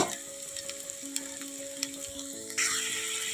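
Ginger paste and ground turmeric, chili, cumin and coriander powders fry in a pan, giving a steady close sizzle that continues without talk and swells into a louder hiss near the end.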